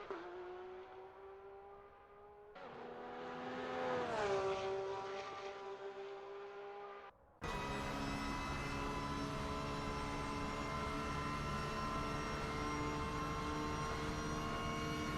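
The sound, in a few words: flat-six racing car engine in video game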